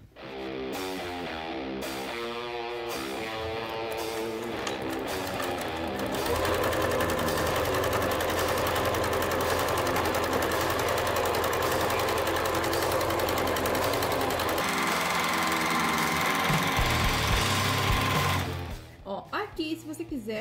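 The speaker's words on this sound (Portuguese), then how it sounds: "Então vamos costurar agora." Sewing machine stitching fabric for a homemade car trash bag, running in a steady continuous whir for most of the stretch, loud and close, slowing and stopping near the end with a few short bursts.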